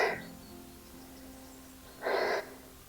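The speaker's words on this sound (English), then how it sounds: "You have to excuse me puffing and panting." Heavy, puffing breaths from someone hiking on a warm day through brambles to an abandoned farmhouse, two short, breathy exhales close to the mic, with quiet between them.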